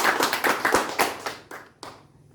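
A classroom gives a small student group a round of hand clapping, a quick burst of about a dozen close claps that thins out into a few scattered final claps.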